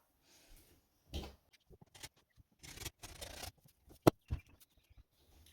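Scissors cutting fabric pattern pieces on the bias, heard as scattered quiet snips, scrapes and rustles with one sharp click near the end, in a quiet room.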